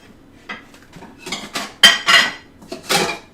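A utensil scrapes and clanks against a pot while pasta is scooped out, giving several close, sharp metallic knocks and scrapes in an uneven rhythm.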